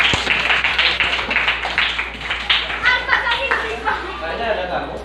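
A classroom of students claps for several seconds, with scattered, uneven hand claps and some murmuring voices among them.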